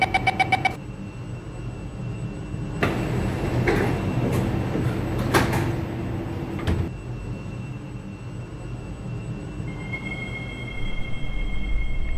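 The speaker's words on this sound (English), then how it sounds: "Doors are closing." Train doors close in the openBVE simulator game on a C751B set on the Harbouvale Line: a short chime sounds, then the doors slide shut with a few sharp thumps over a steady rumble, followed by a faint sustained tone.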